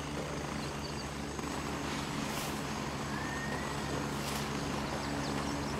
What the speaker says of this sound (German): Oh, kommt einer von uns? Unser Heli,